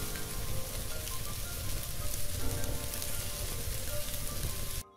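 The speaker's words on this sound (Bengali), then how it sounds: "এই যে রসুন তেলের উপরে দেয়া হলো, সরিষার তেলের উপরে" Chopped garlic dropped into hot mustard oil in a pan, giving a loud, steady, crackling sizzle that runs unbroken from start to finish before cutting off abruptly.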